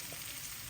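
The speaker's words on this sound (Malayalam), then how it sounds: "ആ മസാല ഒന്നിങ്ങനെ പൊരിച്ചെടുക്കണം, അത്രയേ ഉള്ളൂ" Masala sizzling and frying in a hot pan, a brief steady hiss of crackling oil that stays close and even throughout.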